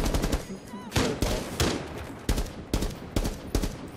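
Bursts of rapid gunfire in Rainbow Six Siege ring out in quick clusters, loud and close, with short pauses between volleys.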